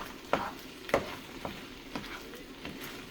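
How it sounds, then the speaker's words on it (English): Beef stir fry with rice sizzling in a hot pan, a steady frying hiss broken by a few sharp clinks and scrapes of stirring, close and moderately loud, no voices. "And you can hear it all sizzling up."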